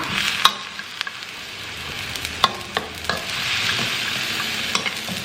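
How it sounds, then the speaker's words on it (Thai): Mixed vegetables, including cauliflower and broccoli, are stir-fried with water in a pan, giving a steady sizzle broken by repeated sharp clicks and scrapes of the spatula against the pan, close and without speech. "แล้วก็จะผัดตัวผักอันนี้ให้มันสุกก่อนนะคะ"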